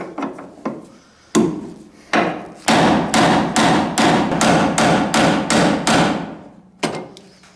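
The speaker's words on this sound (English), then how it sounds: "pinch these two together right here, and then just drive it in" Sharp metallic hammer strikes drive a hinge pin into a 1973–1987 Chevy truck door hinge, first a few spaced blows and then a rapid steady run of about a dozen close, loud hits, ending with one last strike.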